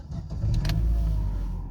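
A Chevrolet Cruze with a manual clutch is started with a key: a short crank, then the engine catches into a low, close, steady rumble.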